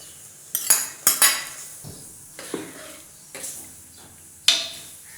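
Soaked dal tipped into a pot of simmering taro for a colocasia dal, heard as a handful of sharp metallic clinks and taps of a spoon against the pot, spaced irregularly over quiet background with a soft sizzle.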